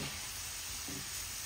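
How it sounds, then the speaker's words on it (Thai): Thin shoestring potato fries deep-frying in hot oil, a dense, steady sizzle and bubbling hiss at close range, with a soft stir partway through and no talking. "ทอดไปเรื่อยๆจนกว่ามันฝรั่งจะหมดเลยนะคะ"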